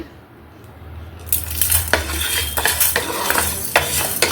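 Prawn shells being fried and stirred on low heat for a spicy powder: crisp spatula scrapes and metallic pan knocks over a low sizzle, close and busy after a quiet opening second.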